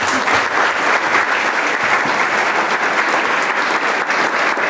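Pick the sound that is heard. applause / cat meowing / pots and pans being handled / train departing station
applause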